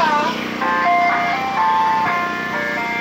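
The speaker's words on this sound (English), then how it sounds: "I cannot believe the same ice cream truck just came back." An ice cream truck, a Nissan van, plays its bright electronic jingle loudly and nearby in a repeating melody over a low motor hum, with faint voices in the background.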